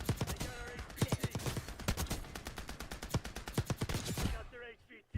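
Rapid bursts of automatic gunfire in a Roblox shooter game, with dense, evenly spaced shots crackling for about four seconds before a brief pause and a final shot.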